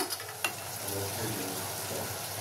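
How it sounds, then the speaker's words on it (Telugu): Soaked green peas drop into hot oil and butter in a pan, with a brief clatter as they go in, followed by a steady, close sizzle that continues throughout. "ఇప్పుడు మనం నానబెట్టుకున్న బఠానీలు వేసేద్దాం"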